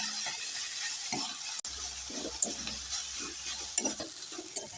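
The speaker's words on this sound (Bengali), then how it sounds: "ওপর থেকে একটু গরম মশলা দিয়ে দেব কেটে রাখা ধনে পাতা একটু নেড়ে চেড়ে দিয়ে দেবো" Cabbage paratha filling with garam masala and chopped coriander gets stirred in a pan: intermittent scraping, shuffling strokes over a soft sizzle, with a brief knock near the middle.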